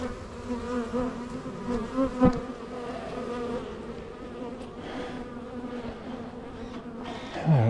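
Honeybees buzz steadily and close by at an open hive during inspection, a dense droning hum with individual bees flitting past, no voices present.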